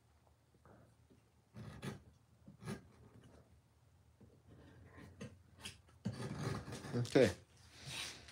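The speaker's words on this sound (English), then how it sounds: "This is a slightly curved gouge." Wood being carved by hand with a slightly curved number 4 gouge while shaping leaves on a Green Man carving; quiet scraping and rasping cuts come in short bursts, growing busier toward the end, with a brief spoken word.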